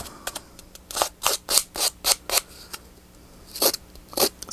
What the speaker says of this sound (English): So I'm going to get my little scissors.